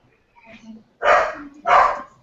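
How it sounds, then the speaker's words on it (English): Dogs of a pack that includes corgis bark twice in loud, close bursts, after a brief quieter stretch of faint vocal noise. "It's full of dogs."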